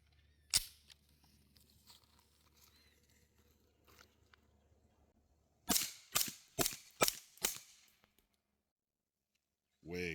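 Suppressed B&T APC9K SD-2 submachine gun firing 115 grain ammunition at an outdoor range: one muffled shot, then a quick string of five, and a final report at the end, with faint voices in between.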